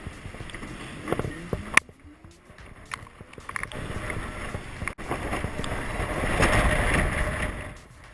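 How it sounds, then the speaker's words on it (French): Wind roars and buffets past while riding a Ventys electric scooter, rising to a loud rush that buries the very faint hum of the quiet motor. "la sonorité du moteur est vraiment très faible et le bruit du vent prédomine"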